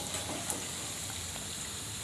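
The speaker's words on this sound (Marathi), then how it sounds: "मध्यम आचेवर आपल्याला हे भजी तळून घ्यायचे आहेत" Onion bhaji deep-frying in oil over a medium flame gives a steady, dense crackling sizzle that stays even and close throughout, with no voices.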